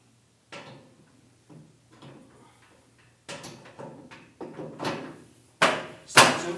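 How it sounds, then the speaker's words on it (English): An ASKO condenser dryer door is shut and latched and its cover snapped back on, giving a series of plastic clunks and clicks that grow louder, with the final snaps the sharpest. "You go ahead and shut the door, lock it in place, and then put the cover back on."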